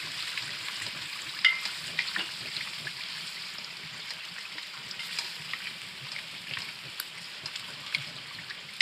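Desi saag greens are stirred and cooked in a pan, a faint, even sizzle with small wet crackles and occasional scrapes, no voices.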